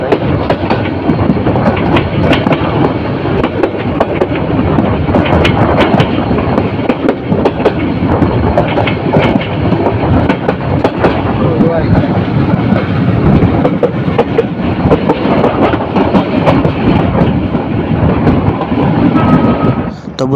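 The Chottola Express, running from Dhaka to Chittagong, rounds a curve past Tongi town with a loud, continuous rumble and rhythmic clickety-clack of wheels on rails, heard up close throughout.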